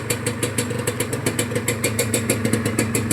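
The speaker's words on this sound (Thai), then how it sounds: "สตาร์ทง่ายครับ ก็เร่งได้อยู่เร่งเร่งโอเคอยู่ เสียงเครื่องก็เงียบอยู่" A Honda NSR150RR motorcycle engine runs close by with a fast, rhythmic chug that pulses as it is revved. There is no talking.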